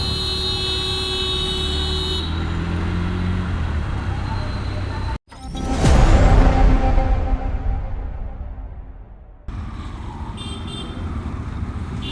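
Car horns blare in congested Dhaka street traffic, sustained tones sounding near and loud over engine rumble and passing vehicles, with voices in the mix.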